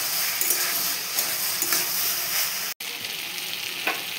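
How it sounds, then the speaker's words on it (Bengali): Potato and eggplant pieces fry with onions in a pan of oil, producing a steady bubbling sizzle with faint stirring scrapes, broken by one brief cut to silence midway. "আলু বেগুনগুলো ভাজা হচ্ছে, এবারে পেঁয়াজ দিয়ে দেবো।"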